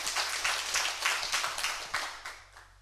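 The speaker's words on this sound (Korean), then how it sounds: "하나님께도 영광의 박수 한번 드리겠습니다" A church congregation applauds together during a Korean Sunday worship service, a steady wash of dense hand clapping that fills the whole clip before tapering off slightly toward the end.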